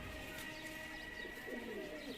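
Madrasi pigeons coo faintly in a loft, soft low cooing and a few chirps under a speaking voice and background hum.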